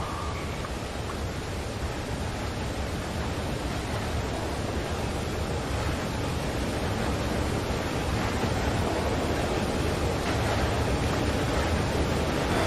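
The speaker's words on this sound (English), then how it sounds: "the water's filling up" Water filling up in the video game Limbo, a dense, continuous rushing wash that holds steady and slightly swells, loud and alone without talk.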